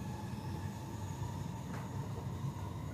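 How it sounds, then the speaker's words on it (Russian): Steady rumble of a nearly empty passenger train in motion in Switzerland, continuous wheel and carriage noise with a faint high whine, heard from inside the car with no talking. "А я еду в пустом поезде."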